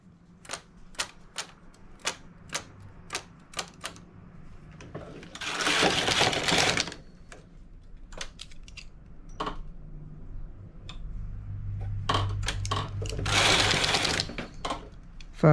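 A domestic knitting machine carriage sliding across the needle bed while knitting a row of micro-braids, with a series of sharp clicks followed by two loud rasping sweeps, close and without talk.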